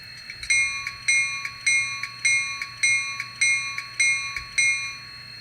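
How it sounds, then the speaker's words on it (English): An N scale GP40-2 model diesel locomotive with DCC sound rings its bell in an even, repeating rhythm of about ten clear metallic strikes, each ringing out briefly before the next. "Do the bell."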